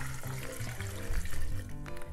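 Water from a tap pours into a cooking pot of lentils, a close, steady splashing gush whose tone shifts slightly as the pot fills.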